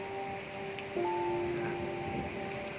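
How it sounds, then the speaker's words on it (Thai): Rain falls steadily outdoors at a garden with a pond and a rowing boat, a soft continuous patter on surfaces with a faint tonal hum running underneath. "แต่ตอนนี้ฝนสาดแล้วค่ะ ตอนนี้ฝนตก"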